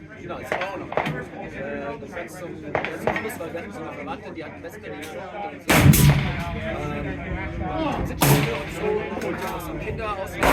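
A suppressed rifle fired at a 1,000-yard target on an outdoor range. Two heavy muffled reports come several seconds apart, with background voices and chatter throughout.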